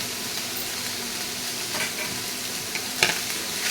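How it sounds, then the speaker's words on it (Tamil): Green beans stir-frying in a pan with turmeric and salt: a steady, close sizzle of oil with a few scrapes and knocks of the stirring spoon against the pan, and no voices. "இப்போ பீன்ஸை நல்லா வதக்கியாச்சு"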